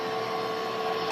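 An inkjet printer runs a print-head cleaning cycle, giving a steady close mechanical whir with a constant tonal hum that holds throughout, with no voices.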